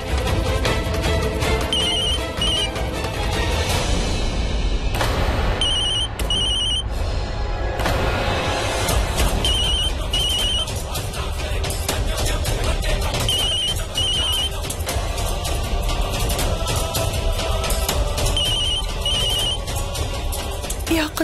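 Mobile phone ringing indoors, a repeating electronic ringtone melody in short bursts that runs over a loud, dense background of music for about twenty seconds.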